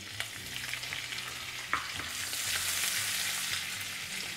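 Cashews and green chillies sizzle and fry in ghee in a pan, a steady crackling hiss that swells midway, with a couple of sharp clinks of a spoon or pan.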